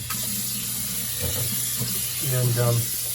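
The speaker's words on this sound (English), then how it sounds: "I'm gonna turn the water on" A kitchen tap runs, a steady soft rush of water in a sink, joined by a person speaking nearby over the flow.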